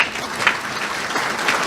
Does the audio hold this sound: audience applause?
yes